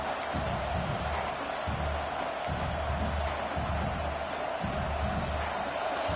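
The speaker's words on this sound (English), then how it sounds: "And the crowd coming to life here, trying to help this defense down in the red zone." A stadium crowd cheers and roars in a college football video game during a red-zone defensive stand, a steady dense wall of crowd noise with no clear breaks.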